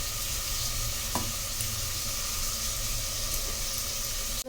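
Frying in a pan while cooking green chicken biryani gives a steady, even sizzle that holds for several seconds, close and alone, with a single faint knock partway through.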